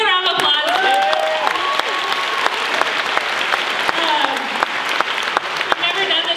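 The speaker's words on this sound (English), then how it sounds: "Can you give them a round of applause?" A conference audience applauds loudly and continuously, with whoops and voices rising through the dense clapping and a few sharper individual claps standing out.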